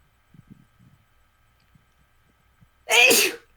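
A single loud sneeze near the end of a courtroom scene in The Great Ace Attorney Chronicles, preceded by faint small rustles and quiet.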